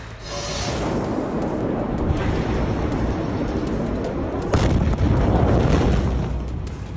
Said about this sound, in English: An earth-shaking explosion killed more than 70 people and injured thousands.